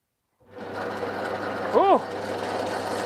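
A wood lathe in a workshop switches on and settles into a steady, close motor hum, with a brief rising-and-falling whine partway through as it comes up to speed.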